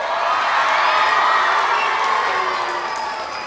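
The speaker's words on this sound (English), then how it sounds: "please make some noise. Don't make it too long, because the longer it is, the longer it takes us to get to music. But have fun cheering." A crowd of school children cheers and shouts at a live concert, a loud, sustained roar of young voices that holds steady and eases slightly toward the end.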